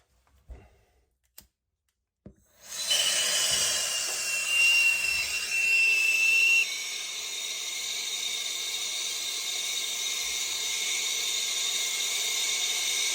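A torch fitted with a turbo tip ignites after a few faint clicks and then roars steadily with a loud hissing rush while heating a washing machine shut-off valve, with a brief whistling tone partway through.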